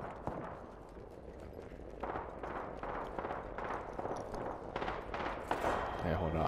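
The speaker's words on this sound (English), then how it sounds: "Hey, hold on, I hear shots" Gunfire echoes from a distance in the Apex Legends battle royale game, a series of faint, rapid pops in repeated bursts. Quiet game noise continues underneath.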